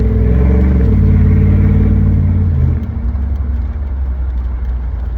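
Truck with a Vortec engine idling loud and close, revving up briefly early on with a rising tone before settling back to a deep, steady rumble.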